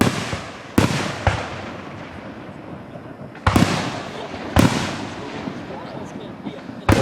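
Loud fireworks bursts at a Fourth of July show in Gettysburg, Pennsylvania, five sharp booming blasts spaced irregularly over several seconds, each trailing off into crackle and rumble, with voices murmuring underneath.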